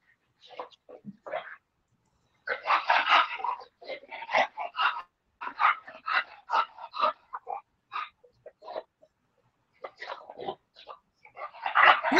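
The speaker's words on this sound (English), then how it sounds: "He is an English bulldog." An English bulldog snorts, grunts and breathes noisily in close, irregular bursts with short pauses between them, and the noises grow louder toward the end.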